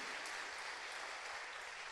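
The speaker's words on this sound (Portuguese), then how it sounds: "palmas ao Senhor" A church congregation claps together in a steady, dense wash of applause, moderately distant and unbroken for a couple of seconds.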